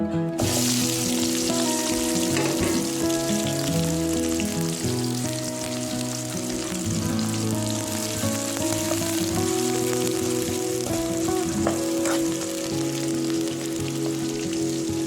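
Onion frying in oil over a wood-fired clay stove while mutton curry is prepared, a loud steady sizzle running throughout, layered with sustained tonal hum and faint clinks, no talk.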